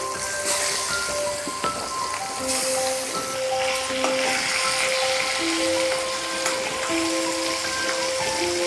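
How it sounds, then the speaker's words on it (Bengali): Pieces of fish frying in hot oil for a Bengali fish curry with spiny gourd, giving a steady, close, continuous sizzle and crackle throughout, with no talking. "একইভাবে ভেজে নিচ্ছি সবগুলো"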